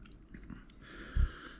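Someone chews a mouthful of crunchy cooked snapper caught from shore in New Zealand, with soft close bites and one louder crunch near the end, no talking.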